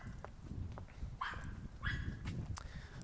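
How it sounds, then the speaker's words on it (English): A dog barks at a person crossing into its territory, with a couple of short, faint, distant barks over a low background rumble. "A dog's barking at me,"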